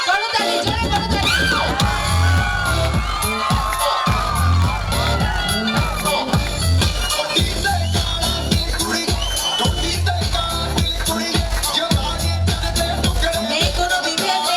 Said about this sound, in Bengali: আমরা জোরে করতালি জোরে করতালি